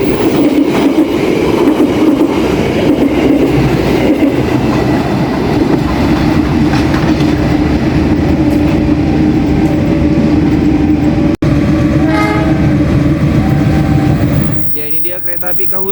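The Lodaya Selatan passenger train rushes past at night, a loud continuous roar with rhythmic clickety-clack and faint wheel squeal, cutting away abruptly near the end.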